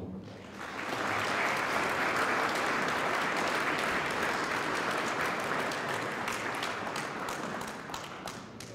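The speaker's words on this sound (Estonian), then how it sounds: "Ma paluksin teile aplausi." Audience applause at a charity ball, a broad sustained wash of many people clapping that rises fast and carries on evenly for around eight seconds at moderate distance.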